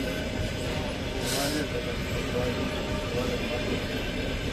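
Interior of a Russian electric commuter train in motion on a rainy day, with a continuous loud rumble of wheels and carriage noise and a jammed window letting in a draft.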